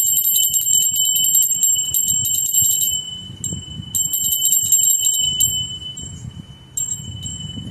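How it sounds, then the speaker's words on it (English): A bell rings loudly in rapid, shimmering bursts, three separate spells of ringing with short pauses between, bright and close. "let's ring our bell"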